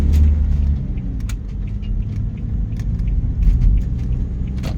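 A car rolls along a road in steady interior-style rumble, low engine and tyre noise continuing throughout with a few faint clicks and knocks on top, no talking.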